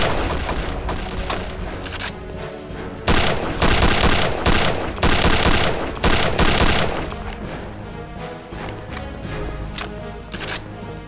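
Heavy gunfire in Return to Castle Wolfenstein, loud rapid volleys and overlapping shots with a dense barrage in the middle, then sparser cracks trailing off toward the end.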